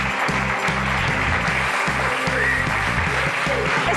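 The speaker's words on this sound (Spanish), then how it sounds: "Un aplauso para la gran Diana Palazón." Studio audience at a Spanish television show applauding a guest's entrance: dense, continuous clapping held at an even level throughout, with rhythmic music thumping underneath.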